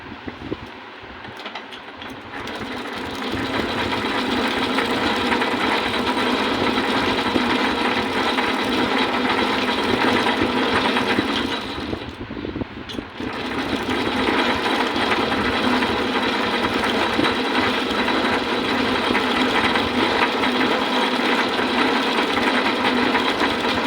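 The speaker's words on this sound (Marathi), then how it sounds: "तर मी हे मशीन हाताने फिरवतो आहे" A hand-cranked coil winding machine whirs steadily with a fine ratcheting clatter while winding a ceiling fan coil, pausing briefly midway before resuming its continuous mechanical rattle.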